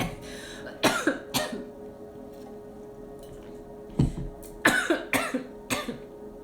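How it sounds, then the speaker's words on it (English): Several sharp coughs break out in bursts, a pair early on and a cluster of quick coughs later, fairly close with quiet pauses between. "I'm so sorry for the coughing."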